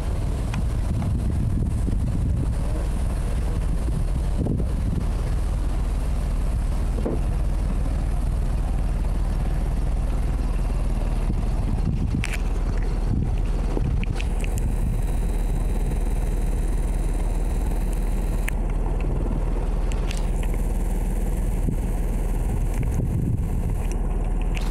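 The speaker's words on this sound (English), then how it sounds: "You can hear the engine running." Engine of a 1985 Tartan 34 sailboat idling steadily at the dock, a constant low rumble that runs the whole time with faint wind and background noise over it.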